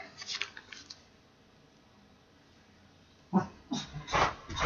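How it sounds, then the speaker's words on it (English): A quiet stretch sits between short bursts of dog barking and yelping, first near the start and then again, louder, near the end. "I'm sorry if you guys hear my dogs carrying on in the background"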